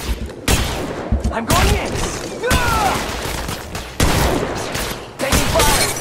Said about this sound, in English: Taking fire. Another squad is attacking.